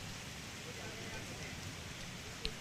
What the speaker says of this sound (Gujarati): ભાવનગર જિલ્લામાં બરબાદીનો વરસાદ ખાબક્યો છે